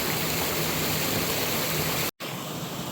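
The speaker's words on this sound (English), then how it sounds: "Nice little waterfall disappearing down into nowhere." A small waterfall on a creek in a nature preserve, a steady hiss of splashing, flowing water heard up close, cut by a brief dropout near the end before the rushing resumes.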